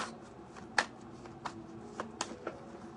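Tarot cards are shuffled by hand during a live reading, soft riffling flicks and taps arriving in a loose irregular series, faint and close with no talk over them.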